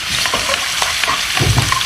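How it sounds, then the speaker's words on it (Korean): Pork stir-frying in hot oil flavoured with ginger for jajangmyeon: a steady, loud sizzle with scattered crackles and the light scrape of stirring. "자, 그다음에 여기다가 돼지고기 넣어서 볶아주도록 하세요"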